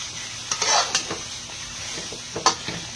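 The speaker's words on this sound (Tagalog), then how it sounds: "Bali i igisa ko muna siya sa sarili niyang mantika." Native chicken sautéing in its own rendered fat in a pan, continuous sizzle broken by several sharp scrapes and clatters of a spatula stirring, close and without talk.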